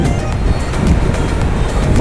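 Large ocean waves surge and break on a beach in Goa, India, a steady broad roar with gusty wind buffeting the microphone throughout.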